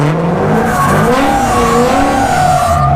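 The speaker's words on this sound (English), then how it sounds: "Keep the RPMs up." A car doing donuts holds high revs, its engine droning loudly and continuously while the tires squeal and skid throughout, with no talk.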